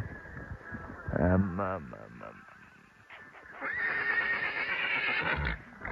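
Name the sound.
horse neighing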